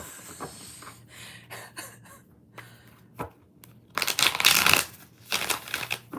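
A tarot deck shuffled up close: soft papery riffles and card flutters, then a louder burst of rapid crisp shuffling near the end, alone with no talking.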